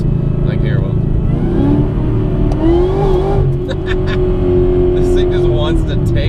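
A supercharged Whipple-equipped car on R888 tyres is driven hard on track, its engine droning loud and close with a rising pitch as it accelerates, while someone talks over the engine noise.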